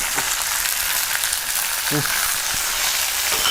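Dried red chillies and curry leaves sizzle in hot oil, a loud continuous hiss with brief crackles throughout, close up and with no talking.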